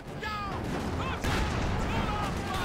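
MG34 machine guns rattle in bursts during a Company of Heroes 2 battle, dense rapid firing mixed with distant booms and whistling shells, with the game's combat noise filling the background.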